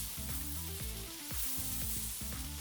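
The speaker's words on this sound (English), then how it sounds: "Take your tongues and sear like this." A picanha steak sears in a hot pan, giving a steady, close sizzle under louder background music with stepped melodic notes.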